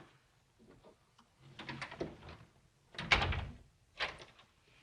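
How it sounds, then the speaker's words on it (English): Doors are shut and locked in an old house, with several soft knocks and clunks followed by a sharper bang of a latch or bolt, then one more thud, all quiet and close with no talking. "I locked the doors because the servants mustn't know"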